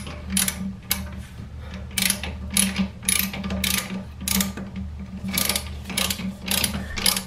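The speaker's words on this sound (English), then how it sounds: "And then we're going to use a 1/2-inch ratchet" A half-inch ratchet clicks in quick, regular bursts while tightening the bolt of a built-in toilet seat, each pawl click crisp and close over a low steady hum.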